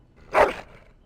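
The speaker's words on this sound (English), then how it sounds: "That is a wonderful dog." A single short dog bark from Dragon Age: Origins, close and fairly loud, fading quickly into a quiet background.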